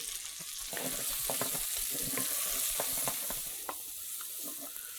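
Pearl onions and mushrooms brown in a hot pan for coq au vin, a soft steady sizzle broken by a series of light spattering pops and crackles, fairly faint throughout.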